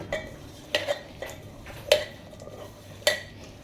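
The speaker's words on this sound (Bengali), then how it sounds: "ডাল মাখানোটা ভালো করে আমি মাখিয়ে নেব" Spiced potato, egg and dal being mixed by hand in a metal dish, giving a few soft scrapes and light clinks at irregular moments over a quiet background.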